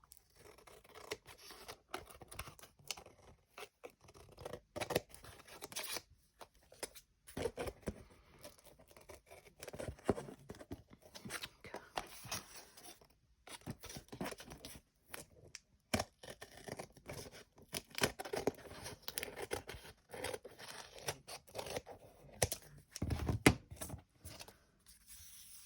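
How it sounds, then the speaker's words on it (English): Brand-new scissors cut through paper for a junk journal, giving soft, close snips and rustles that come in irregular bursts with pauses between them, quiet and without speech. "let's try it, my new scissors."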